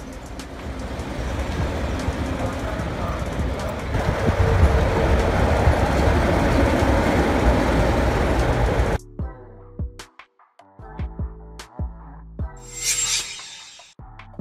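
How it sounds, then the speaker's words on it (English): Monorail train running along its elevated single-rail track, a loud steady rumble and rattle that cuts off abruptly partway through, followed by sparse clicks and tones. "Monorail."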